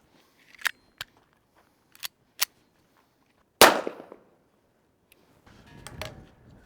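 A single loud .38 caliber gunshot fired at a ballistic helmet target on a range, a sharp crack with a quick decaying tail, preceded by several small metallic clicks and followed by faint rustling.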